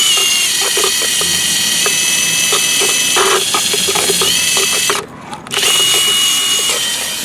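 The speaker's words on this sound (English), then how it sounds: "Obviously you do probably need a drill to make these tools really work" A power drill whirs steadily while a drill-mounted spinning brush scrubs the carpet of a 2002 Chevrolet Suburban interior, with a brief pause in the motor partway through.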